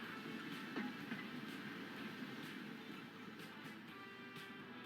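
A tram rolls along its track in the video game Transport Fever 2, a low continuous rumble with faint rhythmic clicking of rails, steady and fairly quiet throughout.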